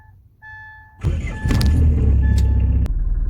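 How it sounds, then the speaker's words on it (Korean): A used car fitted with a diesel particulate filter cranks and fires up after a few faint clicks, settling into a loud, rough, tank-like idle rumble close by, with a sharp knock near the end. "시동을 한번 켜보겠습니다."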